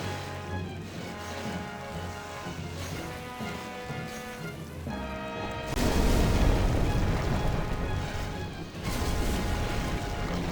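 Fire bombs explode during a boss fight in Demon's Souls on PS3: two heavy roaring bursts, the first midway and the second near the end, rising loudly over a quieter tonal game backdrop.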